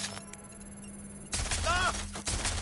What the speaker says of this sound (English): Suspect shooting!